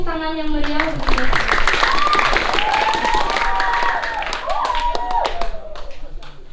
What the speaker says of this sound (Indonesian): Beri tepuk tangan yang meriah untuk kita.